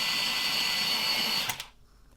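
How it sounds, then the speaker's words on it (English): An electric pencil sharpener grinds a colored pencil in a steady, close whir for about a second and a half, then cuts off abruptly into near silence. "I'm going to sharpen that one."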